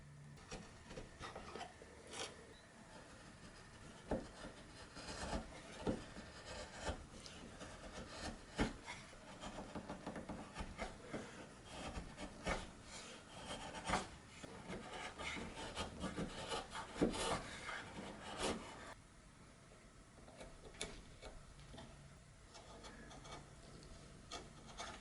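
Steel chisel paring wood dovetails guided by a paring jig, giving steady rasping, rubbing scrapes with sharp slicing strokes scattered throughout, close and fairly quiet, with no talk.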